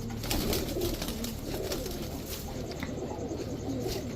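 Several pigeons coo close by, soft overlapping throaty calls repeating over a low background rumble, no voices.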